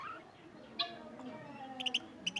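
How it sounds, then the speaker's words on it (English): Australian parrots calling in Timergara, Dir, Pakistan: one sharp chirp, then a quick cluster of short, bright squeaky calls near the end, faint against a low background hum. "Very beautiful parrot,"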